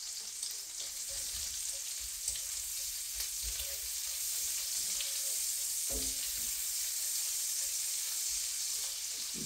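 Sliced ham sizzles steadily in a pan while being stirred, with scraping and soft clunks of the utensil against the pan breaking through the constant close frying hiss.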